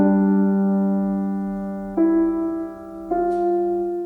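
Piano playing a few sustained notes of a beginner piece: a held low tone, then two new notes struck about a second apart, each ringing out clearly and alone.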